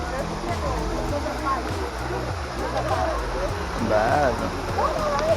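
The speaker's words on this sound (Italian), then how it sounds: "la cascata." A waterfall at Lago di Corlo pours with a steady broadband rush of falling water, heard close and continuous beneath people talking.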